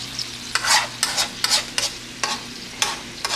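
Green beans sizzle in a hot pan while a utensil scrapes and stirs in quick, regular strokes, about eight in all.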